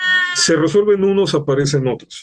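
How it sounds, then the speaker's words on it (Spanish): A cat gives a drawn-out, falling meow, loud and close, while someone talks in Spanish over it. "Pero eso fue un gato que opinó."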